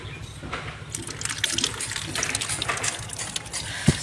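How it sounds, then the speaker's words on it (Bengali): Water gushes and splashes steadily into a container being filled for watering garden plants, a close, continuous pour with bubbling texture throughout. "জলটা একটু ভরে যাক।"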